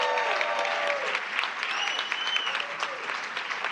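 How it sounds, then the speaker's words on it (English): An audience claps steadily for student performers at an elementary school board of education meeting, a dense, sustained wash of hands that continues throughout with a few whoops and scattered voices riding on top. "One more round of applause for them."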